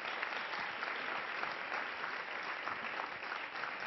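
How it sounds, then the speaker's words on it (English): A conference audience applauding Leila after a session at Nonick 2011, a dense, even wash of clapping that holds steady for several seconds with no voices over it. "I would like to ask for a very big applause for Leila for this brilliant session."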